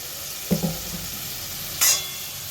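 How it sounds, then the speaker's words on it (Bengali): Poppy seeds fry in a pan, with two distinct scrapes of a spoon stirring through them over a soft continuous sizzle. "এবার এটা ভালো করে নাড়বো, ভালো করে নাড়বো। এটা একটুখানি কষি নেবো"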